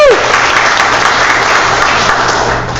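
A theater audience applauds a stage performance of Arthur Murphy's comedy The Apprentice, a dense, steady wash of clapping that fills the whole stretch at close range before easing slightly at the end.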